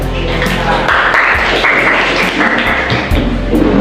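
Applause in a classroom lesson as students clap for a presenting group, loud, dense clapping that carries on steadily throughout, with faint voices underneath.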